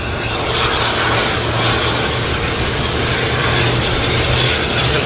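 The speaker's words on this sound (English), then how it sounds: "Jetstar starting up out the back there, making all the noise" A Jetstar jet airliner starts its engines at Auckland Airport, a loud, steady broadband roar with a low rumble that holds constant throughout.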